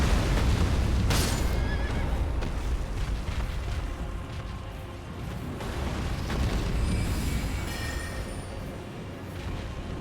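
A horse neighs loudly in a video game, a whinny with a sharp onset near the start, set against a dense, steady rumbling game soundscape with faint clopping and booming in the background.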